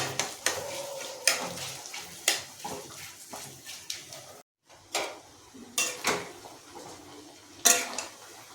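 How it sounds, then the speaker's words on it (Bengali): A utensil repeatedly scrapes and clatters against a pan while onions fry, with short stirring bursts separated by brief pauses. "পেঁয়াজ যোগ করেছি এটাকে ভালোভাবে ফুটিয়ে নেড়ে দেবো"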